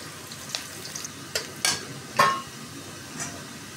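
Chopped garlic fries in a pan with a soft sizzle, while a spoon stirs and scrapes against the metal in a few distinct clinks, close and fairly quiet.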